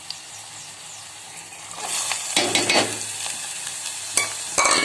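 Soaked toor dal tipped into a sizzling tempering in a pan and stirred, with the frying hiss swelling midway into loud, close bursts of sizzle and scraping.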